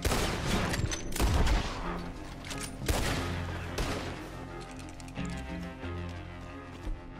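Gunfire in Red Dead Redemption 2 erupts in a burst of sharp, loud shots in a town shootout, several cracks close together early on, then scattered shots and clattering movement.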